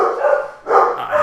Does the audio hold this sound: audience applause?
no